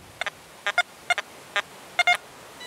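XP Deus metal detector with the silencer setting on, giving a series of short, faint electronic beeps, some single and some in quick pairs, spaced irregularly over a quiet background.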